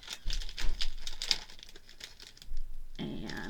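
Plastic packaging around a stamp set crinkles and crackles in several short bursts close by, then quiets briefly before a last rustle at the end.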